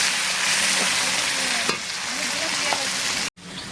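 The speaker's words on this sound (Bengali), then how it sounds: "এই পেঁয়াজটা দিয়ে নাড়াচাড়া করছি। পেঁয়াজটা লাল লাল করে ভাজবো।" Onions frying in a pan for a spicy katla fish curry, stirred with a spatula, giving a loud continuous sizzle with occasional scrape strokes, close and alone until a brief cut near the end.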